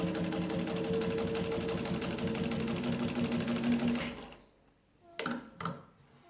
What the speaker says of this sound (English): I always bury the needle. That gives the machine a chance to cycle all the way up before it has to drive through the material